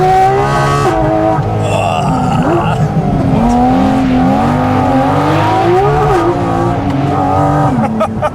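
Porsche GT4 RS flat-six engine sounds loud and close while driving, its pitch rising and falling through revs and shifts, with a brief voice underneath.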